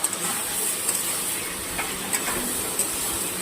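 Fried chicken pakoras stirred into spices in a hot pan for Bengali chilli chicken give off a steady, close sizzling hiss with faint scraping, heard alone with no talk.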